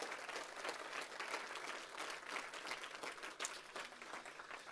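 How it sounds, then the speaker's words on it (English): A festival audience at a film festival in Rotterdam applauds with dense, steady clapping that fills the whole stretch at moderate, even loudness. "Please give her a round of applause."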